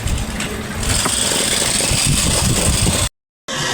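A Sharp twin tub washing machine spin motor runs after repair, a steady close mechanical hum and whir with fine vibration, holding even before a brief cutout and resuming.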